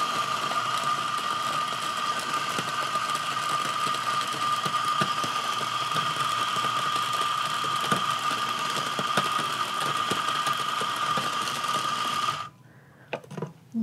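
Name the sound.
stepless espresso coffee grinder running, adjusted to finer setting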